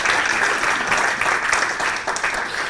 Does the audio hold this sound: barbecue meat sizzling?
no